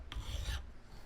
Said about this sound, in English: So what we'll do here, we'll prep by filing a flat in this